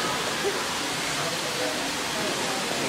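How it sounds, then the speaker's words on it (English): A small waterfall pours steadily, giving an even broadband rush of falling water that stays constant and close throughout. "The waterfall is so little."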